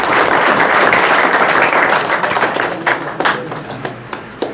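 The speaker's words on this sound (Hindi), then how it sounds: "एक बार जोरदार ताली होनी चाहिए सर के लिए" Loud applause from a crowd at a public school event welcoming a teacher, dense clapping that gradually thins out into a few scattered, sharper claps toward the end.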